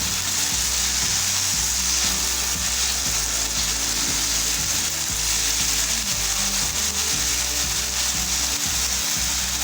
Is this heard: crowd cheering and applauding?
no